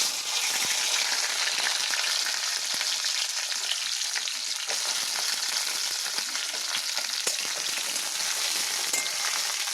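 Garlic and then onion frying in a pan of hot oil, giving a steady, close sizzle with occasional crackles and stirring scrapes throughout, no voices.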